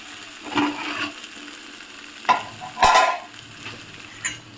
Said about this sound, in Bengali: ভাতের ঢাকাটা সরিয়ে ভাতটা একটু নেড়ে দিলাম